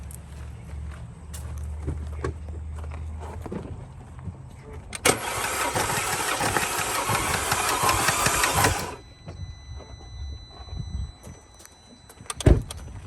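A B8 2.0T engine with all spark plugs removed cranks over continuously for several seconds with a dense, whirring grind, then stops; speech is heard before and after.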